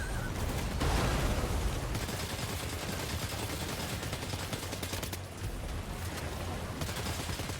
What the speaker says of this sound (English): We'll switch to assault rifle for now.